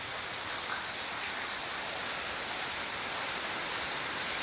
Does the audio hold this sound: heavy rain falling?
yes